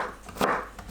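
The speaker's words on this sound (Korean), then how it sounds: "감자채 썰어주세요" Knife chopping a potato into thin strips for potato kimchi, a couple of quick dull cuts on a board within a second, close and fairly soft, with no talking.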